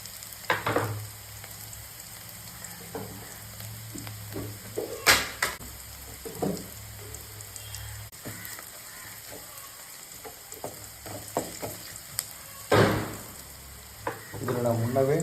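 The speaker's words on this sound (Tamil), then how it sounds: "வெங்காயம் நல்லா வதங்கிட்டு இருக்கு" Onions sauté in a pan for mutton gravy with a continuous close sizzle, while scattered spoon scrapes and clinks against the pan punctuate the frying at irregular intervals.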